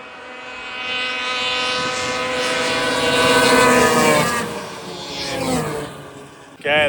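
Several Polaris snowmobiles, including Mountain Max models, launch together in a race, engines roaring loud and close with rising, overlapping whines that swell and then begin to fade, ending in a brief sharp burst.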